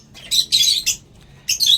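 Pet birds kept at home let out sharp, harsh squawks close by, in bursts of three or four calls with brief pauses between them.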